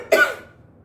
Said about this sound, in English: You're also coughing.